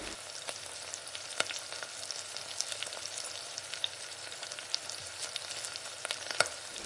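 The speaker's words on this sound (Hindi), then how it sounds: "अब 1 से 2 मिनट के लिए हम लो फ्लेम पे इसे सौटे कर लेंगे।" Cardamom, cinnamon and ginger garlic paste sauté in oil over a low flame, making a steady close sizzle with frequent small pops and crackles and the occasional stir.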